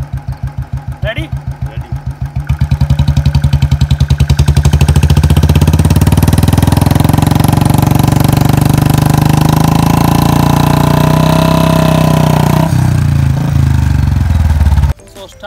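A Bullet motorcycle engine putters at idle, then revs up into a loud, sustained roar that holds for several seconds before cutting off abruptly.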